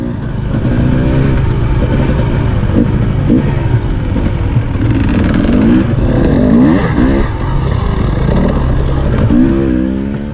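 An enduro dirt bike at a family enduro event, its engine revving and surging continuously through rocky trail terrain, loud and close throughout with rising and falling throttle.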